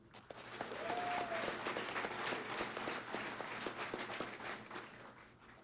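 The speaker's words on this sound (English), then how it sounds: "Can we get another round of applause, please?" Steady, full applause from an awards ceremony crowd, many hands clapping together at an even level throughout, with a brief faint tone near the start.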